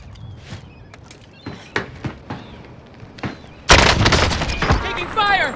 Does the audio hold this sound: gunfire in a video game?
yes